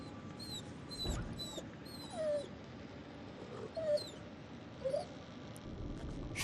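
A dog whimpering in the horror video game The Devil in Me, several short, high, faint whines and yips spaced out over a low, murky ambient background.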